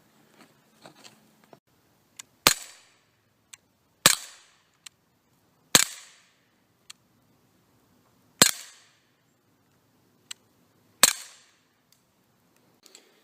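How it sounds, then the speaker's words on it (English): An airsoft gun fires BBs at a cheap $20 airsoft mask, producing sharp, loud cracks at irregular intervals of a few seconds, with fainter ticks and small clicks between shots in a quiet setting. "I actually shot it with 8 BBs"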